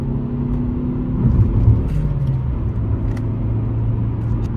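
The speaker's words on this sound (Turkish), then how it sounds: "Şehir içi hızlanmasını da şöyle gösteriyorum. Ayağım sonda gazda." A Fiat Egea Cross with a 1.4 Fire engine accelerates at full throttle through city streets, its engine droning loudly and steadily, the pitch dropping briefly at a gear change before it pulls on.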